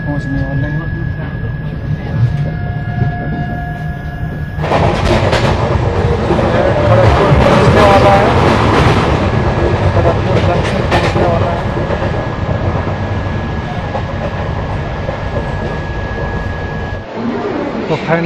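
Train at Jhargram railway station in West Bengal, a loud rumbling roar of rolling stock and wheels that surges in abruptly and carries on steadily, with a thin sustained tone underneath before cutting off near the end.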